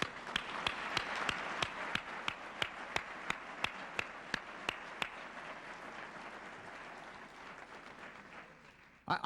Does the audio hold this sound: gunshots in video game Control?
no